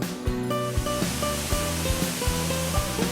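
The Dusun Kuning waterfall in Bangli, Bali, pours as a constant, dense roar of falling water, steady and loud throughout, with a layer of sustained tones running over it.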